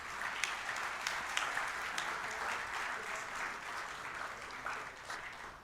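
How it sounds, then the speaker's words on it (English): An audience at a summit applauds the institute president, a steady, fairly faint wash of many hands clapping heard from a distance throughout. "A big round of applause for Nanda sir."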